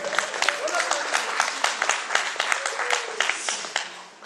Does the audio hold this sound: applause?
yes